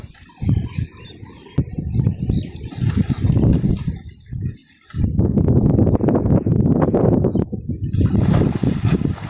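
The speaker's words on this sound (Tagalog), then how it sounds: "Malakas po yung hangin." Strong wind buffets outdoors beside a muddy, water-lily-covered pond, roaring in loud irregular gusts with brief lulls, rumbling heavily as it batters the microphone.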